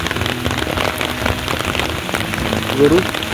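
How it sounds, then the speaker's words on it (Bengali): Steady monsoon rain patters on surfaces all around by a river in North Bengal at dusk, a dense continuous hiss with a faint voice briefly in the background. "এখন বৃষ্টি এসে গেছে"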